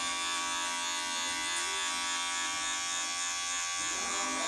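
An electric hair clipper buzzes continuously at close range with a steady, even motor drone that barely changes in pitch.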